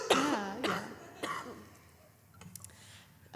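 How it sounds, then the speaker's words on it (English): Several short coughs and throat-clearing bursts from performers on a small live music stage, loud and close at first, then trailing off into quieter room noise with faint clicks. "Short coughing intermission."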